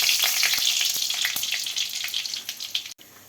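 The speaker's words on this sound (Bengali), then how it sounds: "তো তেলটা গরম হয়ে গেছে, এখন শুকনো লঙ্কা দিয়ে দেবো।" Dried red chillies sizzle and crackle loudly in hot oil in a wok, a dense steady frying hiss with small pops and stirring scrapes, fading slightly near the end.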